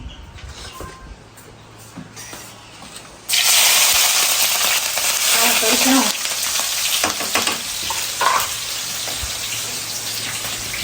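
Curry gravy roasting in hot oil in a home kitchen gives a loud, steady sizzle that suddenly swells a few seconds in and keeps crackling, with occasional stirring scrapes over a low background hum.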